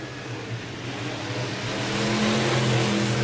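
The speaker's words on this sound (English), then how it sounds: "Christopher DeMera goes around in turn 4, but gets back on the gas." Sprint car engines at Park Jefferson Speedway dirt track, a dense distant roar that swells as cars get back on the throttle, continuous with no talk.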